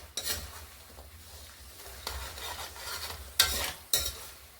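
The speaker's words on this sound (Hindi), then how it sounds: "इस तरह से हम चलाते रहेंगे" Jaggery being stirred with a spoonful of ghee in a pan, giving soft scraping swishes with a few sharper clinks of a spoon against the metal, fairly quiet and with no talking.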